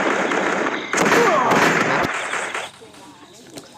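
Gunfire in a shooting video game, loud, dense bursts of shots crackling close for about two seconds before dropping away to a few faint pops, with a voice talking over it.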